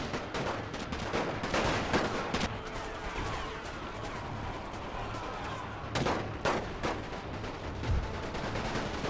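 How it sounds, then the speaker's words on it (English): Heavy gunfire in The Great War video game, a Russian Revolution battle against the Finns: dense rolling volleys and sharp bursts, with louder close shots standing out against a constant roar. "That's going to be a heavy fight, heavy amount of gunfire going in there."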